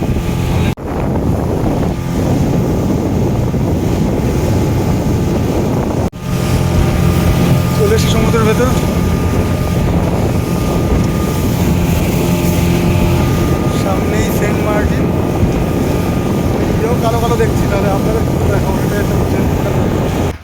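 A speedboat crossing the open sea toward Saint Martin's island runs with a steady, close engine roar, heavy wind buffeting the microphone throughout, and a brief dropout near six seconds before the drone resumes.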